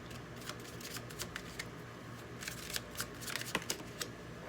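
Tarot cards being shuffled and drawn from a deck, a run of soft papery riffles and flicks at close range with scattered sharper snaps, no voices.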